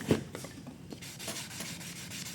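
Fine 320-grit sandpaper rubbed back and forth on a surface, soft rhythmic scratchy strokes, close and fairly quiet, with no talking.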